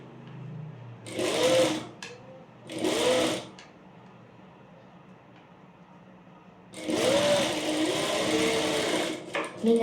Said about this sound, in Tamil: இப்போது நான் இதை மடித்து கூட தைக்கலாம்.